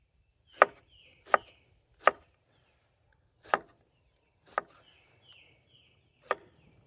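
A knife chops diced onion and tomato on a cutting board, six sharp isolated knocks at an uneven pace, close and clear in an otherwise quiet kitchen.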